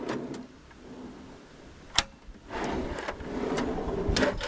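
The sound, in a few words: cutlery drawer opening in camper kitchen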